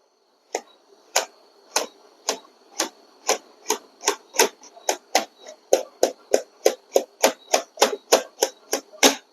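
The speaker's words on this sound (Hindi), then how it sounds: "देखिए साथ में आवाज भी कर रहा है, कट कट कट की आवाज हो रही है जितना मैं एक बार घुमा रहा हूँ" The roller of a Braille writer clicks as paper is fed in, producing about twenty sharp, evenly spaced ratchet clicks up close, one roughly every 0.4 seconds.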